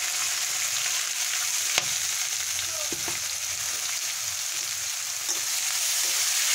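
Finely chopped onions fry with a steady, close sizzling hiss in a pan, broken by an occasional utensil tap, with no voices present.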